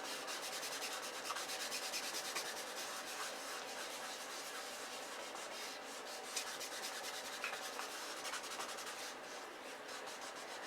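Something is rubbed repeatedly over 80-pound cardstock, producing a continuous close, faint, dry scratchy rubbing with steady back-and-forth texture throughout.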